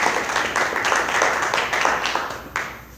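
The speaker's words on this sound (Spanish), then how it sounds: "Démosle un aplauso al Señor." Church congregation applauding during a Spanish-language evening service, a steady wash of clapping with a few louder bursts, fairly close and continuous for about three seconds.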